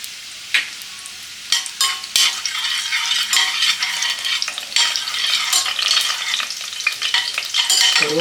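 Fennel seeds, bay leaf and whole spices sizzle and crackle steadily in hot oil for biryani, with scattered sharp pops and a few stirring clinks, close and fairly loud without talk.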